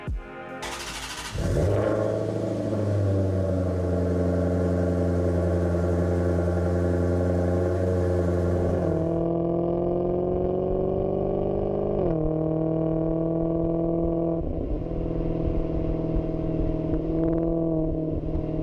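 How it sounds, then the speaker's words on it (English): A Maserati GranTurismo's exhaust rises into a loud, sustained rev right after a sharp start-up bark, holding a steady high drone and then shifting down through several stepped changes in pitch, with no talking over it. "I'm sure at some point you've probably heard the exhaust note of a Maserati GranTurismo."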